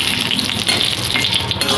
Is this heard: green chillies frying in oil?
yes